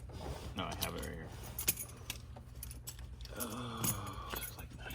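Keys for a 1969 Mercury Cougar XR7 convertible jangling in bursts near the car, metallic clinks scattered across a few seconds while people talk nearby.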